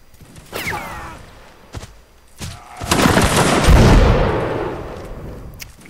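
Musket volleys in the Napoleonic-era game Mount and Blade: Napoleonic Wars, loud close crackling shots followed by a long rolling fusillade of massed fire that echoes and fades.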